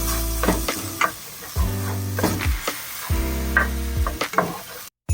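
Ginger, garlic and onion sautéing in oil, a steady close sizzle punctuated by repeated scraping stirs of a utensil against the pan, with a low hum underneath and no talk.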